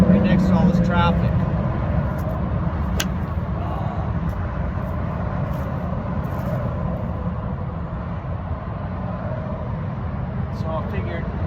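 Road traffic runs steadily beside a truck parking lot with a driving range next door. Vehicles rumble past at low level, with a brief horn-like tone near the start.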